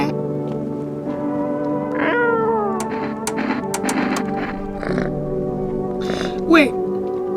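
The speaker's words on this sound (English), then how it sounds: "Hello, cat." In the video game No, I'm not a Human, a cat meows a few times over a continuous droning game soundscape, the calls rising and falling clearly in the foreground, with a voice speaking briefly.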